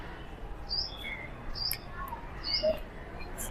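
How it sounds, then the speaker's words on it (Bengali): Birds call among the trees of a rural garden, giving about three short, high chirps at a regular spacing, distant and faint over a steady background hiss. "একদম গ্রাম্য পরিবেশ গাছ গাছালির মধ্যে পাখি ডাকছে"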